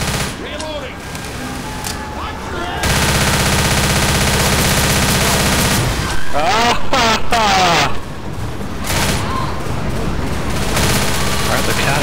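Gunfire in the zombie video game Left 4 Dead: bursts of rapid automatic shots and loud blasts over busy game noise, with voices talking between the shots.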